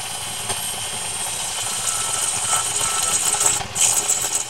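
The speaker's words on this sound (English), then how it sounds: "how the gouge is kind of leaving a shiny surface after it cuts" A lathe gouge shears through a spinning walnut and resin pot, giving a steady, fairly loud scraping whir with faint rhythmic chatter that grows rougher and more uneven toward the end, with no voices.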